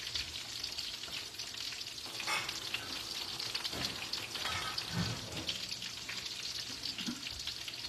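Shrimp egg foo young frying in a pan, cooking until crispy and brown, gives a continuous bright sizzle with occasional stirring clatter and light pops, close and steady throughout.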